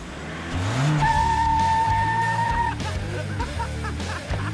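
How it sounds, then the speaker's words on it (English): A front-wheel-drive car doing a burnout at a race track after dark lets out a loud, sustained tire squeal over a revving engine, then the screech cuts off and the motor keeps running. "Why are front wheel burnouts so cool?"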